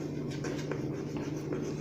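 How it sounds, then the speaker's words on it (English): Pen writing the properties of an image out on paper: soft, steady scratching strokes with short pauses, close and quiet, with no talking. "So first we will write where the image is formed."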